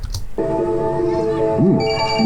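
A mobile phone ringtone from an incoming call plays as a steady, loud melodic tone with sustained notes and a short warbling figure, alone with no talk.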